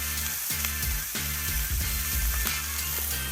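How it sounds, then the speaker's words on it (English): Fat cap of a piece of meat sears in a hot pan, giving a loud, steady sizzle and crackle with bursts of spitting fat throughout, heard alone and close up. "I'm going to turn it over on the fat cap side."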